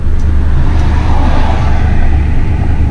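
A restored 1963 Chevrolet Impala cruising with the window down: loud, steady engine and road rumble with a broad rush of wind through the open window, continuous and close.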